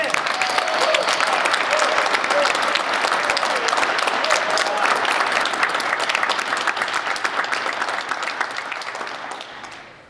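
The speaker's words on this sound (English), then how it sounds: "Please join me in recognizing the class of 2021 with a round of applause." Sustained applause from a large seated crowd for a graduating class at a university business school commencement, dense rapid clapping that fills the hall evenly and then tapers off at the end.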